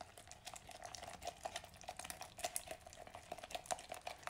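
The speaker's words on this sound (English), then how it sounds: "You can hear a better stir sound" A spoon stirs a thick patina paint mixture toward a pancake-batter consistency, giving a soft, quiet, continuous wet scraping with small rhythmic clicks and no talk.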